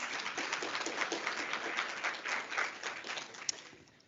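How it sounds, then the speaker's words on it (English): Steady applause from an audience for Deputy President Paul Mashatile at a NEDLAC keynote, many hands clapping evenly at moderate loudness before tapering off near the end. "can we have another round of applause, please?"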